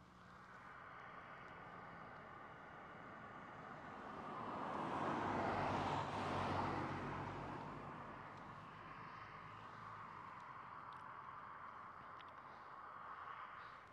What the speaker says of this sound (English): Sorry, there's a car coming.